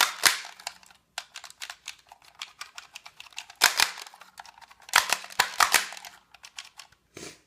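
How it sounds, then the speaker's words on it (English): A NERF Crossfire blaster with a fault that stops it firing gives a run of dry, sharp plastic clicks and snaps from the trigger and mechanism, irregular and close, grouped in a few bursts with short gaps between them. "It should be dry firing, and just to prove that it does not fire, here's a NERF dart in it."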